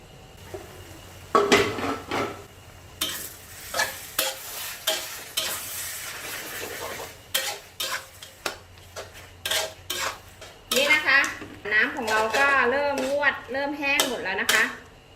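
Glass noodles with shrimp are turned over and baked in a covered pan, with loud irregular bursts of metal scraping and clanking from stirring over a low simmering sizzle, plus brief voices.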